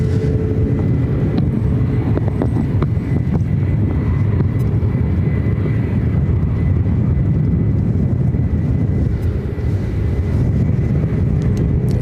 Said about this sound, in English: we should be seeing this 757 heading to Burbank, heading over here to the 28s